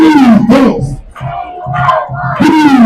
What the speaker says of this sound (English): Crowd getting behind side.